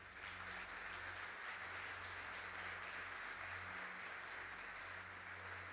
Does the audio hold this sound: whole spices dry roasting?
no